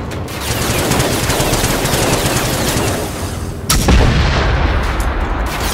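Dense, loud gunfire and explosions from the video game Generation Zero run continuously, with a heavier burst of blasts partway through.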